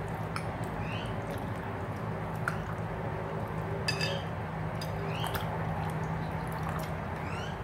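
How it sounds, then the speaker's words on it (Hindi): Salted bitter gourd, or karela, being rubbed and washed in a bowl of water, giving steady wet squishing and sloshing with occasional small clinks, close and continuous, no speech. "इसी पानी में अच्छी तरह से इसको धोना है रगड़ रगड़ के।"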